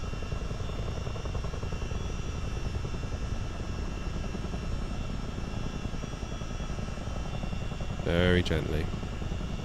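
Miltech Simulations CH-47D Chinook tandem-rotor helicopter in Microsoft Flight Simulator, a steady dense rotor and engine drone throughout with a brief swell near the end, while someone talks quietly over it.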